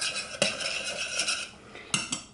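A utensil scrapes and taps against a pan as flour is stirred into melted butter for a roux, with a few sharper clinks standing out over a soft, steady background.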